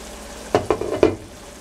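Shrimp curry cooks in a pan on medium heat, with three quick scraping stir strokes over a soft, low sizzle.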